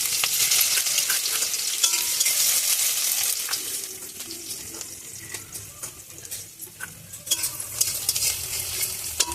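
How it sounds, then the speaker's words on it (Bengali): Chopped onions hit hot oil in a wok with a loud, bright sizzle that gradually settles into a softer crackle, broken by scraping stirring strokes. "কড়াইতে তেল পুরো গরম হয়ে গেছে। সবাই প্রথমে এটা বসিয়ে দিই। দিয়ে দিলাম পেঁয়াজ কুচি,"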